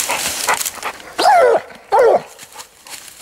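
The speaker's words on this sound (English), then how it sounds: "there you see the Rebel Dog here" A coonhound barks at a raccoon treed during a night coon hunt, giving several loud, close barks in quick bursts with softer yips and whines between them.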